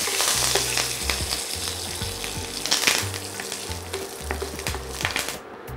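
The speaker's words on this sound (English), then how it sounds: "Urad dal. Dried red chili, curry leaves, and a quick stir." Urad dal, dried red chili and curry leaves sizzle in hot oil with mustard seeds, a steady close crackling fry with soft scraping from a quick stir and no talk.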